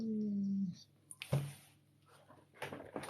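A dog whimpers with a long, high whine at the start, followed by brief yelps and soft whines, close by and mixed with a person talking in a home.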